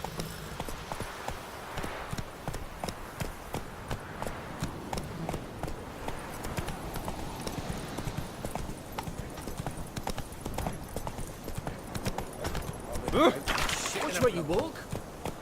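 Horse hooves clip-clopping steadily on the ground while riding in The Witcher 3: Wild Hunt, close and rhythmic throughout, with a character's voice speaking over it and a brief whinny near the end.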